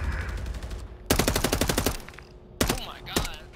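An MCW rifle in Call of Duty fired in quick bursts: a fast string of sharp cracks, a pause, then a few separate shots, loud and close over game ambience.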